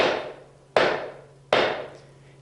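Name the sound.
mallet driving wooden tenon into mortise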